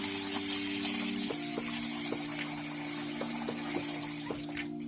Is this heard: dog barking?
no